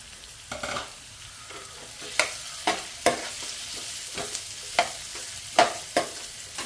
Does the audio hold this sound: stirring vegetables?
yes